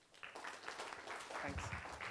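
Applause for a participant during a corporate mentoring session, a short burst of scattered hand claps from a small group, moderately close, with a few voices murmuring underneath.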